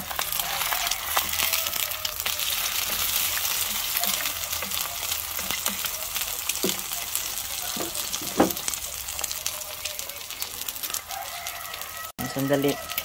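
An egg fries in a pan on a home stove for breakfast, a continuous crackling sizzle with occasional stirring scrapes and taps, while a voice talks over it and a rooster crows in the distance.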